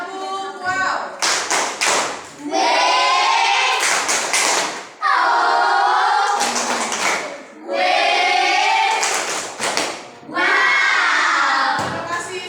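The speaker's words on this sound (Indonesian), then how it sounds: "kita tepuk wow untuk kelompok 3" A classroom of children performs the rhythmic 'tepuk wow' clap chant, sharp loud claps in repeated bursts alternating with loud shouted chanting in unison.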